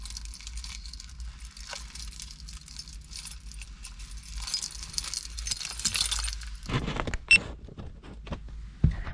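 Car keys jangling up close, with a run of metallic clinks and rattles followed by a few sharper knocks toward the end.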